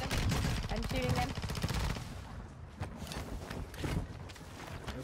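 Rapid automatic gunfire in a battle royale video game: a dense burst of fast shots in the first two seconds, then scattered shots and footsteps, with players talking over it.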